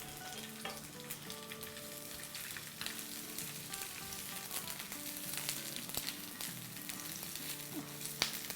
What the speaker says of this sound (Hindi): चले हमारा तेल गर्म हो गया है और अब हम इसमें मिर्चें डाल देते हैं।